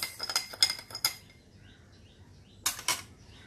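A spoon clinks against a glass while stirring a sweet fennel summer drink, a few quick bright taps in close succession, then a pause and two more, quiet and close.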